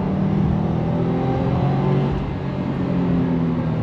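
A Subaru WRX engine revs hard toward red line, a loud sustained close-up rising drone with a brief dip near the end, no talking.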